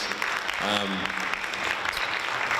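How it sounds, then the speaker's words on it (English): Steady applause from an audience fills the room throughout, with a brief voice speaking over the clapping. "let's give a round of applause here for our panelists"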